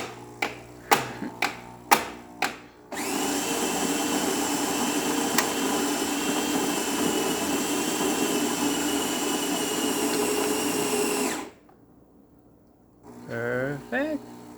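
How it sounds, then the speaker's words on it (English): A Gaggia espresso machine pulls a shot after a tune-up, giving a steady, loud pump hum for about eight seconds, preceded by several sharp clicks and followed by quiet, then brief talk at the end. "now we're gonna do a shot of espresso or a little bit of coffee"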